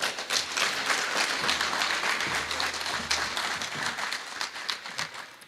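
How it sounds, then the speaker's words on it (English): Audience applause at a mental health symposium following a poem recital, a dense steady clapping from a crowd that fills the room evenly, sustained for several seconds without a break. "Deserving of another round of applause."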